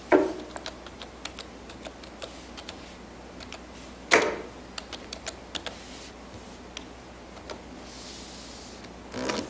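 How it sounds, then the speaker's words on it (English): A password is typed on a computer keyboard at a check-in station: sparse, close key clicks arrive one at a time with short pauses between them, and two louder presses stand out. No one speaks. "Here's the screen where you need to type in the password."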